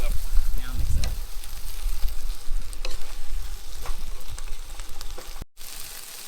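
Food sizzling in a pan at a campground in Arizona, stirred with a spoon, giving a continuous close frying hiss with scattered clicks and scrapes and a brief dropout near the end.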